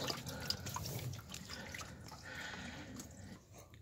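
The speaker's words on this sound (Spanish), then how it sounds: "Lo vamos a dejar escurriendo" Liquid drips steadily from a dirty part draining during a thermostat and temperature sensor replacement on a Chevy Equinox, a faint irregular patter of drops with light trickling in a quiet workshop.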